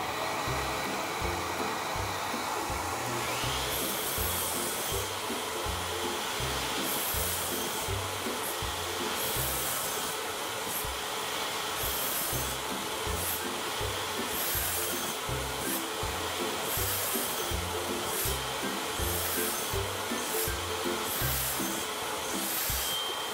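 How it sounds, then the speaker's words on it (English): A miter saw cuts a board about ten times while its dust collection runs, giving a loud, steady machine roar with repeated rhythmic bursts from the blade throughout. "We're going to go ahead and cut a board. I'm going to cut this about 10 times."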